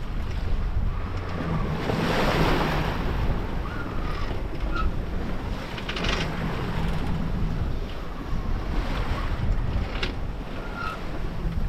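Big ocean swells rushing and breaking around a sailboat 500 miles offshore, a constant loud wash of water with gusting wind buffeting the microphone and periodic surges as waves pass.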